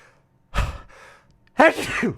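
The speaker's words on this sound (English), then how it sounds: "I'm going to sneeze, sorry" A single sharp sneeze bursts out after a quiet pause, followed by a short breathy sound and a brief voiced exhale.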